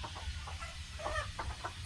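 Domestic backyard chickens clucking around a raised, open chicken roosting coop, a steady mix of short nearby clucks over low background noise with no voices.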